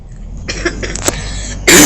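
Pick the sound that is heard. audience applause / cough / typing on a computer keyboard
cough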